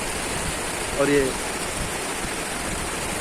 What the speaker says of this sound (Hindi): ये पानी का कलकल करतल ध्वनि